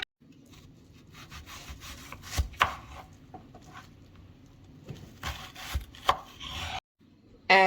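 A whole head of garlic is peeled and broken apart by hand, giving rough papery rubbing and scraping with several sharper cracks and knocks, close and uneven.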